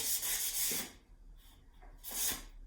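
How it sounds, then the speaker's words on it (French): Fine sanding on an old painted wooden plant stand, two rasping bursts of rubbing with a quiet pause between them, close up and alone. "une fois le ponçage tout fin réalisé, on va mettre la deuxième couche"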